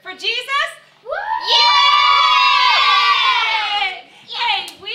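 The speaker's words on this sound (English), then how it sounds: "Hey kids, can you give me a cheer for Jesus?" Children at a church ministry gathering let out a loud, sustained cheer and shouting, with young voices rising together for about three seconds after a brief spoken call.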